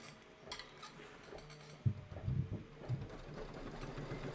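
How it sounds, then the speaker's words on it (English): Embroidery sewing machine stitching a satin outline, a quiet rapid mechanical whir with ticking needle strikes that builds in steady pulses, no talking. "I think we can go ahead and stitch."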